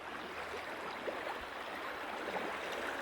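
A river in Terrebonne, Oregon flows steadily, a soft continuous wash of water with faint gurgles, moderately quiet and unbroken.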